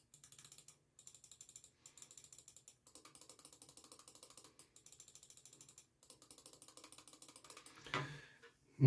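A Xenics Titan G Air SE gaming mouse gives bursts of rapid, crisp button clicks in quick repeated runs with short pauses between them. They are quiet and close, and a louder clunk comes at the end.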